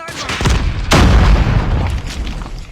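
A heavy explosion in the video game Call of Duty detonates as one loud, deep boom about a second in and then rumbles away. Fainter game sounds come just before it.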